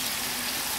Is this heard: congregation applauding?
no